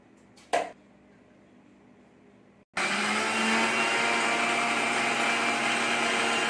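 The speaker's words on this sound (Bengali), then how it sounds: "দিয়ে চালে আর ডালে একসঙ্গে পিষে নেবো নারকেলটার সাথে।" An electric kitchen grinder blending soaked rice, dal and coconut into batter starts up with a sudden loud, steady whirring roar after a quiet pause and a brief knock, then runs continuously.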